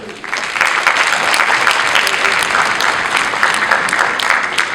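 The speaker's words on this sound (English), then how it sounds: "You should give yourselves a round of applause, I think." A high school winter concert audience gives a sustained round of applause in a hall, a thick, even wash of many hands clapping at once, steady and full throughout.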